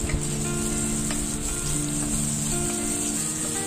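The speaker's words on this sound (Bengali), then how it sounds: "এরপর পেঁয়াজটা একটু নেড়ে চেড়ে ভালো করে ভেজে নিচ্ছি।" Onion and chopped capsicum frying in a pan for an egg curry, giving a soft continuous sizzle with light stirring, quiet and steady and with no talk.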